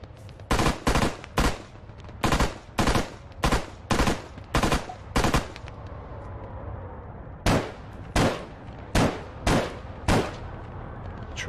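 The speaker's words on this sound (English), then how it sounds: "I'm just going to go and try and take it out with the underbarrel 50." An underbarrel .50 gun in Arma 3 fires at an Ifrit vehicle in repeated sharp, loud shots, mostly spaced singly, with a pause midway before another run of evenly spaced shots.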